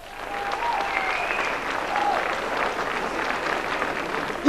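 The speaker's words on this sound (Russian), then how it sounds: "Ваши аплодисменты!" A concert audience breaks into steady, sustained applause that fills the hall from start to finish, dense and evenly loud with no pauses.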